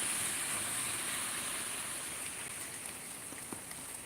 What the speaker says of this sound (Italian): Quindi è arrivata la tanto famosa pioggia ragazzi.